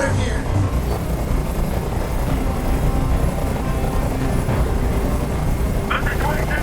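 In the video game Detroit: Become Human, a helicopter flies overhead with a loud, steady rotor drone that fills the whole scene, with a voice partly heard beneath it.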